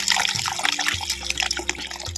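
About 200 ml of plain water poured into a pot of gooseberry rasam: a close, continuous splashing, gurgling pour with shifting tone, loud and alone for just over two seconds.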